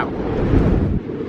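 Wind blasts steadily across the microphone on a cold, blustery day at the Cape Cod coast, a loud, continuous low roar with gusts and a slight drop near the end.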